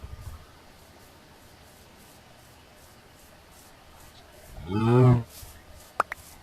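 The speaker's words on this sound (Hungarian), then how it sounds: "Talán itt egy tehén." Cow in Minecraft moos once, a loud harmonic low call near the end, after a quiet stretch and followed by a couple of brief clicks.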